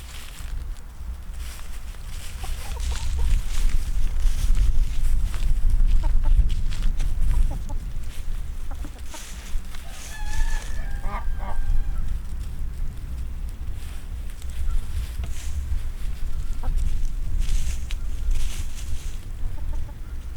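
Pastured chickens clucking outdoors, scattered soft clucks and calls at moderate distance over a low rumbling background.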